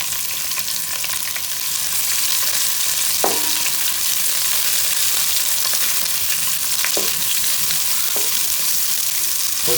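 Onions and green chilies fry in a pan with whole spices such as cloves, cardamom, cinnamon and mace for chicken fry piece biryani, a steady loud sizzle with a few sharp clicks of stirring, no voices.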